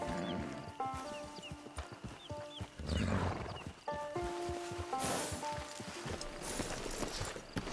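Horse hooves clip-clopping in Red Dead Redemption 2 Online, steady rhythmic steps close by amid a busy game soundscape with music-like tones and occasional animal calls.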